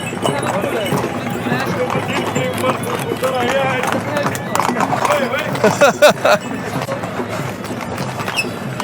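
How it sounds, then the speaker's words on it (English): Horses in the main square of Marrakesh, hooves clip-clopping on pavement in an uneven rhythm under a busy crowd, with someone talking over the clatter. "We're now in the main square, and we're continuing to attempt to not be hit by a horse"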